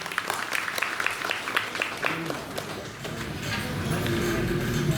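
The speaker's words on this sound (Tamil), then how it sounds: "நமக்காக ஒரு கைத்தட்டல் கொடுத்துக்கலாங்களா?" At a temple wedding festival for Rukmini and Pandarinathan in Karur, an audience breaks into scattered clapping that builds into a fuller, sustained round, with voices murmuring underneath.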